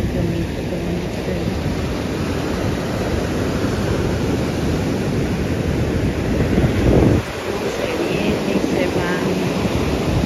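Sea waves washing on a beach, a steady rushing wash with wind buffeting the microphone and a brief surge near the end; no speech is heard.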